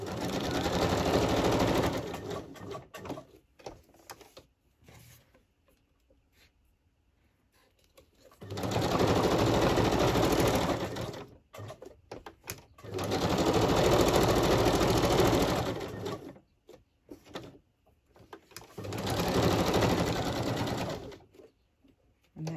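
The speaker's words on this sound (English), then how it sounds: "I'm going to do straight stitch on this one" A sewing machine runs straight stitches across a painted mixed media tag in three or four steady, loud bursts of motor whirring and rapid needle clatter, with quiet pauses and small handling clicks between runs.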